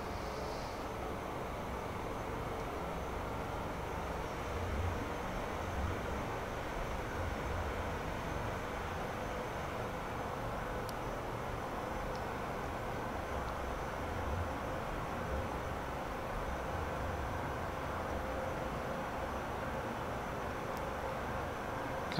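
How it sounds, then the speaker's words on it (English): A Saab 105 jet in DCS World flies low over rooftops with the throttle backed off, a steady, even engine rush and broadband roar holding constant at moderate volume. "Backing off the throttle and bring the aircraft down to treetops"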